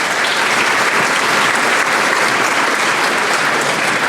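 An audience at a small business awards ceremony claps steadily, a dense, loud, even wash of applause that holds unbroken from start to finish.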